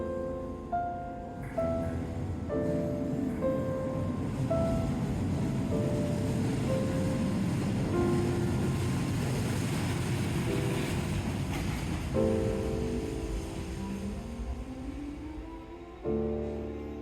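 A Scarborough RT light rail train in Toronto rolls into a loop with a low rumble and screeching wheel squeals that rise and shift in pitch as it moves through the curve.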